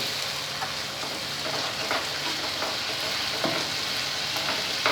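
Steady, loud sizzling of potatoes and pointed gourd frying in a pan with a little water added, a continuous hiss with occasional stirring scrapes.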